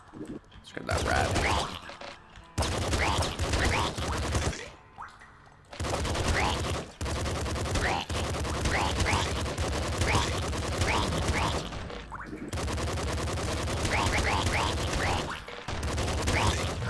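Rapid SMG gunfire in the video game Nuclear Throne, set in the sewers: dense, continuous bursts of game shots and grunting enemy effects, loud and close, broken by a few short pauses between volleys.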